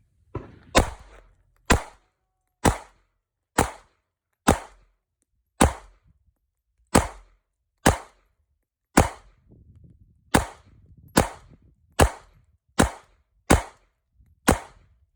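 Bul Armory SAS II ultra-lightweight 9mm pistol firing Aguila 124 grain rounds, fourteen sharp, loud single shots at a steady pace about one second apart, close by, with no talking.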